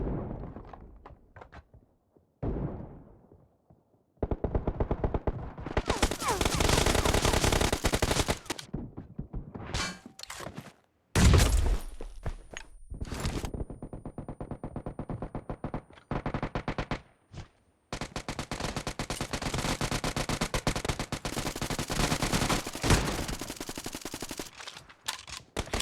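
A light machine gun in an arena-style video game fires long sustained bursts, loud and close, broken by short pauses and metallic clanks.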